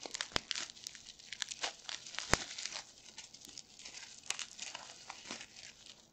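Plastic and paper packaging of a terrarium kit crinkles and tears up close, with sharp crackles and rustles in an uneven, busy rhythm.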